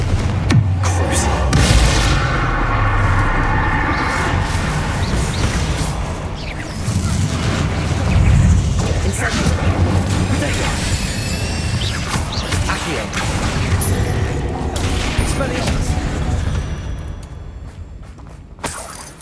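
Combat in the Hogwarts Legacy video game: repeated spell blasts, booms, crashes and shattering impacts over dense, loud game effects, with character voices speaking at times.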